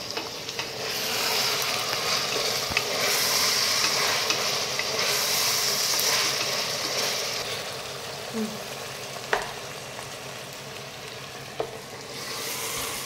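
A spatula stirs chopped carrots and a little capsicum in a hot pan: a continuous frying hiss with soft scrapes and a few distinct knocks of the spatula against the pan.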